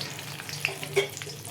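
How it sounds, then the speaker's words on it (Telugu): Tempering spices crackling in hot oil for broccoli mixed fried rice, a soft close sizzle with a couple of faint pops and light stirring, fairly quiet. "పోపులు మంచిగా వేగనీయాలి. ఫస్ట్ మంచిగా వేగుతున్నప్పుడు"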